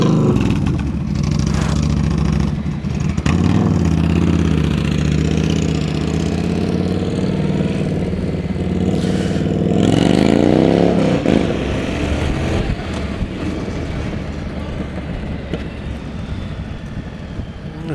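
Motorcycle engine running steadily while riding at the Great Yarmouth Motorcycle Takeover, a continuous mid-pitched drone that swells in a brief rev around the middle, with faint crowd or voice sounds mixed underneath.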